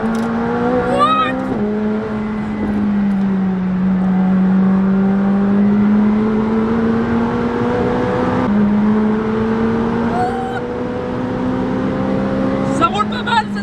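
A McLaren 765LT sports car drives along an open road with a loud, steady engine drone from inside the cabin, rising slowly in pitch as it accelerates, with brief shifts and voices talking over it.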